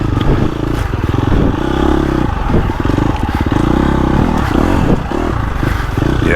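A KTM 350 four-stroke dirt bike engine revs loud and close, its buzzing note rising and falling through quick throttle blips with rattling mechanical clatter, with no voices.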